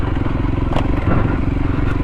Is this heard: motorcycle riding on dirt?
yes